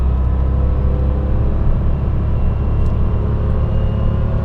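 A 1998 Porsche 911 Turbo S, the air-cooled 993, drives along with a steady, dense low engine drone and rumble, loud and continuous, with no voices over it.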